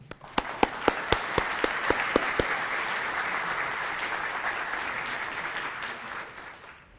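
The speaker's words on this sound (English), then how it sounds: "Ladies and gentlemen, I think he deserves a warm round of applause." Audience at a public lecture applauding the lecturer: a few loud, distinct claps first, then a broad steady wash of clapping that gradually fades away at the end.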